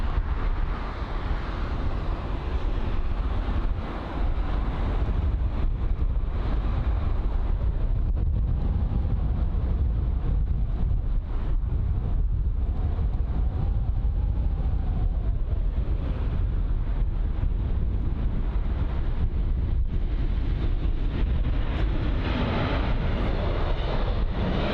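Strong wind at Heathrow airport roars steadily against the microphone as a continuous, loud, low rumble, with aircraft engine noise blended into the gusty wash.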